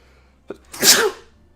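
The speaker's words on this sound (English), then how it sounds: "I'm gonna sneeze." A single loud sneeze up close, a short intake followed by a sharp, breathy burst.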